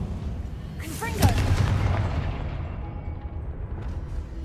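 The Confringo blasting spell goes off in the Hogwarts Legacy video game: a brief whooshing cast, then one loud, deep booming explosion whose rumble fades away over several seconds.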